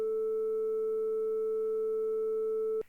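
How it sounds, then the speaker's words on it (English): A steady pure A tone at 440 Hz sounds alone for nearly three seconds, even and unbroken, then cuts off abruptly with a faint click. "Here's an A note playing at 440 hertz."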